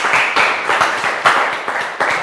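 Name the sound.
congregation applause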